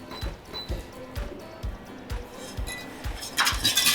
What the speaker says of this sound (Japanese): よく混ぜてやります。